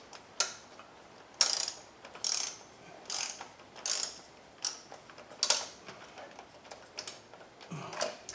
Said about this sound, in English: get my torque wrench for this